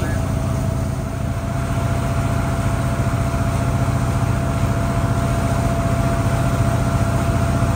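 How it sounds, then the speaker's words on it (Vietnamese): Small boat engine on the river heading to the Cái Răng floating market in Vietnam, a loud, steady close-up motor drone with a constant hum for the whole stretch, with a voice talking over it. "cũng có nhiều ghe nhỏ đi à"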